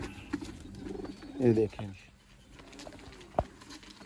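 Sialkoti pigeons coo softly in a short low burst at close range while someone talks over them.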